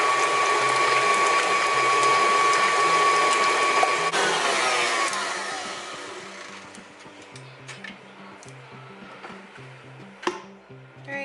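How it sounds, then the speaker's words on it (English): An electric mixer beats egg whites toward stiff peaks. A close motor whine is joined by a rattling, gear-like clatter that eases and softens after several seconds, with no voices. "we're going to go ahead and beat the egg whites until we get stiff peaks"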